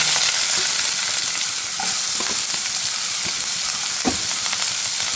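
Finely chopped onion fries in hot oil with a steady, loud sizzling hiss from start to finish, broken by a few faint scrapes of stirring.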